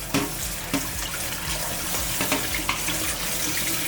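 Tap water runs into a sink while quinoa is rinsed, a steady close rush of flowing water with occasional splashy surges and knocks, no voices.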